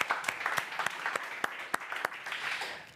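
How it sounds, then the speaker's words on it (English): Audience applause welcoming a panelist onto the stage at an evening career-skills panel event: a modest, fairly sparse patter of individual claps with a few sharp louder hits, heard at a moderate distance with no talking. "oh, applause"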